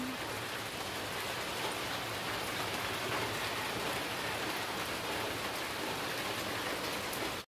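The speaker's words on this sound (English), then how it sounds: "Rainy morning." Steady rain falls on a farm in the morning, an even, close hiss of drops on surfaces that continues without pause and stops abruptly at the end.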